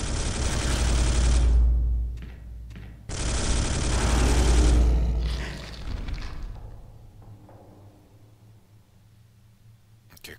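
Heavy automatic gunfire from the Space Hulk video game (2013 remake) blasting loudly in two long sustained bursts, followed by shorter bursts of fire and thuds that fade away, with no talking.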